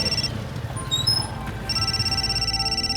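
A high electronic phone ring trills steadily, breaks off briefly with a few chirpy beeps, then resumes over a low background hum.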